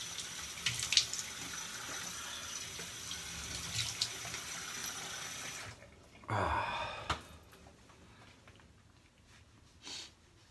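A bathroom tap runs water into a sink for a cold rinse after a shave, a brief gush that starts, swells for about a second, then cuts off, with quieter splashes before and a short trickle near the end.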